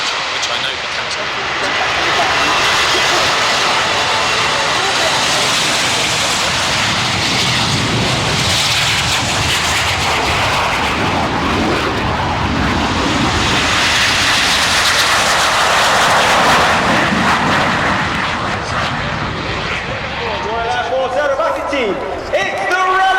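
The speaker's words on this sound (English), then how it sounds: "with those 4 engines in reverse thrust, which I know can happen" Airbus A400M military transport of the German Air Force landing at an airshow, its four turboprop engines in reverse thrust, a loud sustained broadband roar across the whole stretch with crowd and commentary voices audible underneath.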